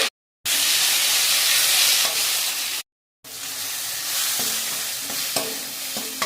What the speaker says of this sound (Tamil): 2 தக்காளியை கட் பண்ணி வச்சுருக்கோங்க சேர்த்து நல்லா வதக்கி எடுத்துப்போம்